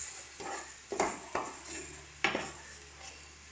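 Salt being stirred into a Bengali-style katla fish rezala curry in a pan: a few distinct scrapes and clinks of a spoon against the pan over a faint sizzle, close and fairly quiet, with no talk.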